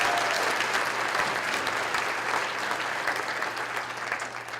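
Steady applause from an audience at an oath of office ceremony, continuous dense clapping at moderate distance that gradually thins and fades toward the end, with a low hum underneath.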